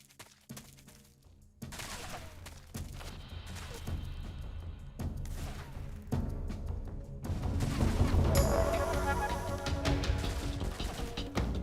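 Bursts of rapid gunfire and scattered explosive shots echo through a busy Metal Gear Solid game soundscape, growing louder and denser toward the end.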